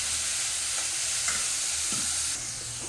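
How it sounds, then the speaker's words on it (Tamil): Grated carrot stirred in a hot frying pan, giving a constant close sizzle with occasional soft scrapes of the spoon and no talking. "திருவி வச்சுருக்க கேரட்டை இது கூட சேர்த்து கொஞ்சம் கிண்டி வேக விடணும்"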